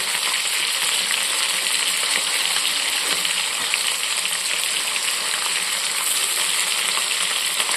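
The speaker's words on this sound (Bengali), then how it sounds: "আলু বেগুনটা ভাজা ভাজা হয়ে এসছে" Potato and eggplant pieces with green chili and garlic fry steadily in hot oil, a dense, even sizzle that holds without a break and with no talking.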